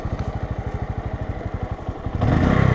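Bajaj Boxer motorcycle engine running close by with a steady, rapid single-cylinder putter that swells into a louder, rougher rev near the end.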